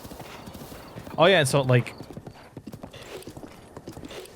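Horse hooves in Zelda Breath of the Wild, a steady rhythmic clip-clop of a horse trotting along a road, with a brief snort or whinny in the middle and someone talking over it.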